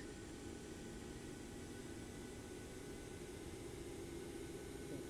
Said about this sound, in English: You hear that deep noise, and you kind of feel it in a bit when the plane starts up